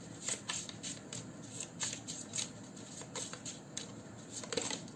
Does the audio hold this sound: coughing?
no